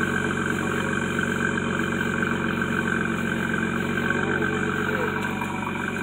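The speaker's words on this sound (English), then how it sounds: "I'm recording the exhaust out of it" A 2003 Ford Mustang exhaust idling steadily at close range, a continuous low rumble that holds even throughout with no revving.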